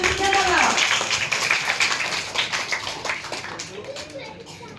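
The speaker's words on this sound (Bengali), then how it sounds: "সবাই করতালি" Audience clapping for a second-place drawing at a children's art competition prize-giving marking an art school's 24th anniversary, a steady patter of hands with children's voices and chatter mixed throughout.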